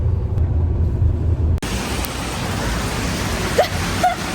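Heavy rain pours steadily in Seoul as a dense, continuous hiss, with a sudden shift partway through and a few faint squeaks in the background.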